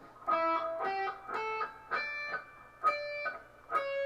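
An electric guitar picks a short lick from a rock song of about six distinct notes, each struck and held briefly with no bending, played alone and fairly quiet.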